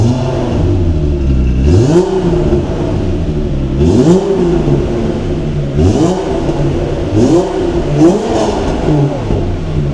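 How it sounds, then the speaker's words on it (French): A VR6 car engine revs repeatedly in rising sweeps, about every two seconds, over a steady rumbling idle, close and loud. "Le bruit des VR6"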